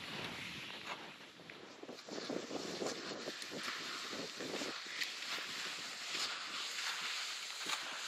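Steady wind buffets the microphone during winter skiing across an open bog in wilderness, a continuous rushing roar with gusty swells and no voices.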